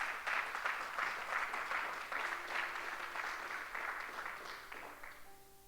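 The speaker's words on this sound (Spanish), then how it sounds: "Dale un aplauso al Señor" Church congregation applauding at a Sunday service, a steady wash of many hands clapping that fades slightly toward the end, with faint voices mixed in.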